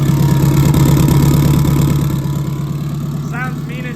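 A budget-built Subaru STI turbo engine runs at a lumpy, loud idle close by, a steady rhythmic burble that eases slightly toward the end, with a few faint chirps above it.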